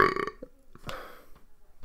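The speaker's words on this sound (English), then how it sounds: "I hate burps and videos." A single burp rings out close and clear, a short gurgling belch followed by a few faint trailing sounds in an otherwise quiet setting.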